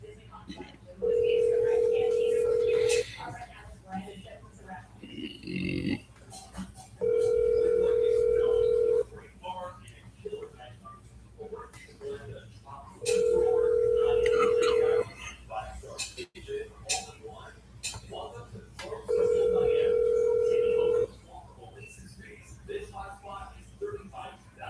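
A telephone ringback tone sounds in four long, evenly spaced bursts while a call waits before forwarding to voicemail, with faint talk and background noise in the gaps between rings.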